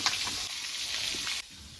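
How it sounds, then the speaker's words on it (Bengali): Pieces of boal fish sizzle and spit in hot oil with a close, steady hiss that drops off abruptly near the end of the short burst. "মাছগুলো দেওয়া হয়ে গেছে মাছগুলো ভাজা হতে থাকবে"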